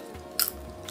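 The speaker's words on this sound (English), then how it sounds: "let me demonstrate how crisp and crunchy these are." Raw zucchini chips, crisp and crunchy, bitten once up close, giving a single sharp crunch burst over a quiet background.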